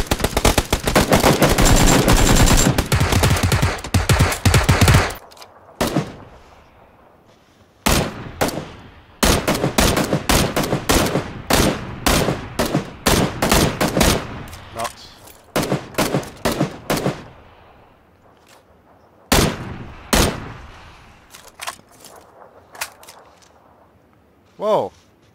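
Gunfire in a shooter video game opens with a long, loud sustained burst of automatic fire, then breaks into repeated shorter bursts and single shots, with occasional voices among the shooting.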